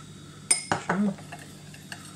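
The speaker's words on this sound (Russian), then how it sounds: "И перемешиваем." Spoon stirring aloe juice and boiled water in a small container, a few light clinks and scrapes close by, quiet and brief.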